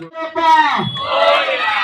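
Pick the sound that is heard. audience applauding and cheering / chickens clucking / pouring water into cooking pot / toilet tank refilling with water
audience applauding and cheering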